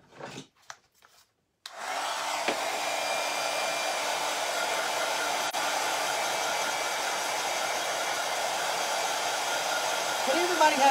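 A hair dryer blows steadily at close range to dry paint on a tile, its airflow whooshing after a few short knocks at the start.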